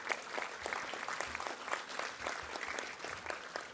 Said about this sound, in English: you deserve a round of applause for coming this far